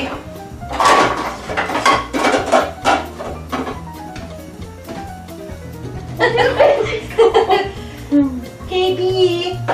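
Pots and lids clatter and clink as someone rummages for a lid in a home kitchen while cooking hamburger soup, the rattling coming in bursts over a voice and laughter nearby.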